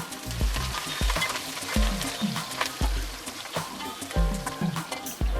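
Slit green chillies fry in hot oil with cumin seeds, giving a loud, steady sizzle with a busy crackle and sputter running through the whole stretch, close up and with no talk.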